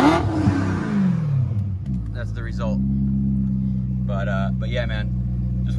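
Supercharged BMW M3 engine revving hard at first, its pitch sweeping down as it settles into a steady, loud idle rumble, with someone speaking over it.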